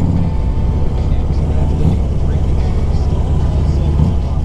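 A 2001 Harley-Davidson Ultra Classic with an S&S top end idles nearby in a steady, deep, lumpy rumble that holds evenly throughout.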